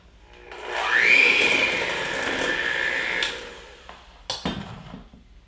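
An electric mixer whirs through hazelnut cake batter with flour and rum, rising to a loud steady whine for a few seconds, then slowing and stopping, followed by a couple of clunks.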